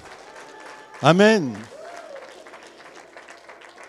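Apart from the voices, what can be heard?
church congregation applauding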